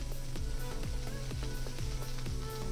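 Ginger and garlic stir-fried in hot oil for a Filipino-style tsui yok gwa dish with fish tofu, a steady close sizzle broken by repeated scraping strokes of the spatula, no talking.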